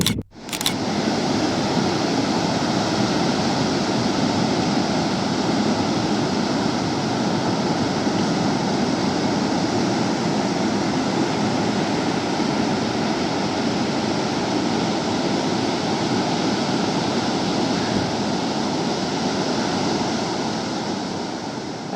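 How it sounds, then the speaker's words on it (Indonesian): Morning surf rolls in steadily on Pangandaran Beach in Indonesia, a loud, continuous wash of breaking waves with some wind rumble and no speech. "ini aku lagi jogging nih suasana pagi hari di Pantai Pangandaran"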